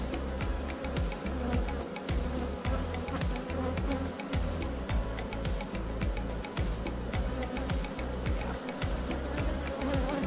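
Honeybees in a hive being introduced to a new queen buzz continuously, a dense, moderately loud drone with individual bees whirring past close by, no voices.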